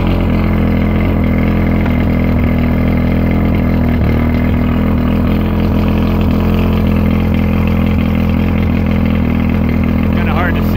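Engine idling steadily and close with a constant low hum and mechanical whine throughout, while someone talks over it as it is put into gear.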